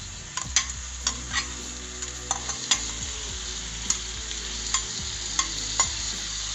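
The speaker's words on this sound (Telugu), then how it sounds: "దీనికి ఉడికించి పక్కన పెట్టుకున్న మష్రూమ్ ముక్కల్ని వేసుకొని ఒక 10 నిమిషాలు వేయించుకోవాలి." Mushroom pieces frying with ginger garlic paste in a pan give a steady, close sizzle, broken by repeated scraping stirs and light clanks of the spoon, with no talking.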